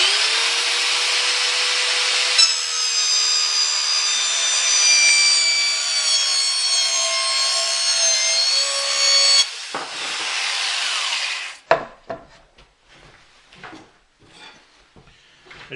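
A Ridgid 5-inch dual blade TwinBlade saw cuts through plywood with a loud, steady high whine lasting around nine seconds, then winds down into scattered knocks and rustles, with no talking.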